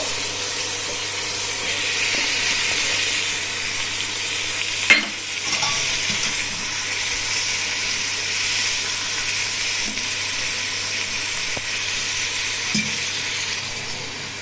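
Tomatoes and curd being stirred in a hot pan for mutton biryani give a steady, bright sizzle throughout. Occasional soft knocks of the utensil against the pan sound through it. No talk is heard.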